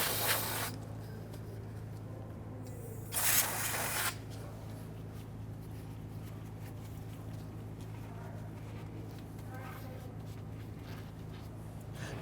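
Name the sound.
spraying solvent on a brake hose bolt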